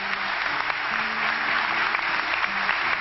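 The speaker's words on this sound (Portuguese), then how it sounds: "Vamos aplaudir esses irmãos." Church congregation at a men's rosary gathering in a parish applauding, a steady, even wash of clapping from many hands throughout, with no voices standing out.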